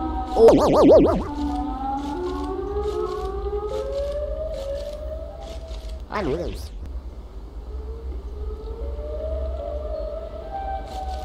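Siren Head's long, wavering siren wail in a horror video game, rising and falling in the distance with a sharp warbling burst near the start and another midway, while a person talks over it.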